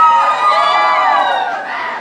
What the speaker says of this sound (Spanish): El grito de las chicas solteras también.